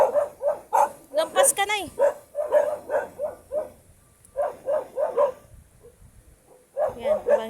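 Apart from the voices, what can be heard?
dog barking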